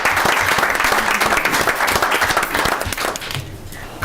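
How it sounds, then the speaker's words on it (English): An audience at a township board meeting claps steadily and fairly loudly for about three seconds before the applause thins and dies away. "Can you please clap for all of these?"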